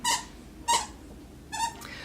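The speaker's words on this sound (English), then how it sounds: "excuse my dog squeaking his toy" Three sharp, high squeaks from a rubber toy being squeezed by a dog, close by, separated by short pauses.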